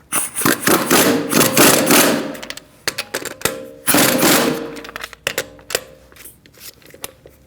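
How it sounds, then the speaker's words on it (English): Socket ratchet clicking and clattering up close as lug nuts are snugged with a 17mm socket on a 2008-2014 Mercedes-Benz C300 front wheel, coming in loud irregular bursts with short pauses. "Now we're going to snug them up. We're going to do that in a star-like pattern using a 17mm socket."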